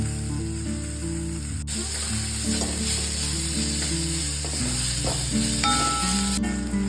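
Chopped banana blossom fries in a pan with turmeric and chili powder, a steady, close hiss of sizzling oil broken by stirring scrapes and soft clatter throughout.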